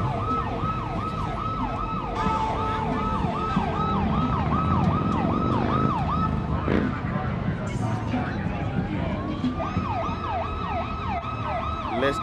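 A wailing police siren cycles steadily through a busy street scene, loud and continuous with a brief pause midway, while people talk casually over it and traffic rumbles underneath.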